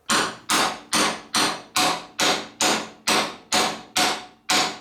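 Eleven evenly spaced, solid hammer taps strike a front fork part on a Honda CB250 motorcycle, each a loud close knock with a short ringing decay.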